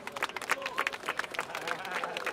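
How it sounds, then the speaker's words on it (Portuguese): Crowd at a rap battle claps and cheers, fairly faint and busy, with voices shouting amid the applause. "Palmas pra batalha."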